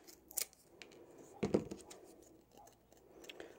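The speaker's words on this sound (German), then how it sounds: "Also ich habe hier so eine alte Schere." Old scissors snip a few times up close in a quiet room, with two sharper cuts and softer rustling between them, as paper is trimmed for a steampunk shadowbox craft.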